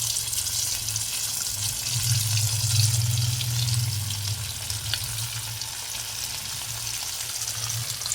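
Fish coated in rice flour and chilli powder fries in hot oil with a steady, close crackling sizzle, swelling briefly and then settling over a low background hum.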